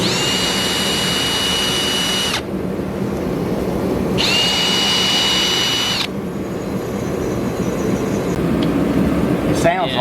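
A drill working in a shop on an S10 truck's rear suspension, whining loudly in two bursts of about two seconds each, separated by a lower steady background hum, with people talking nearby.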